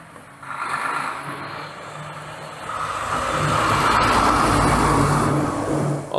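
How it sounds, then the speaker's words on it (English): A big truck drives past, its engine noise rising steadily into a loud, broad roar that holds near its peak for several seconds before easing slightly. "That's the biggest truck I've ever seen."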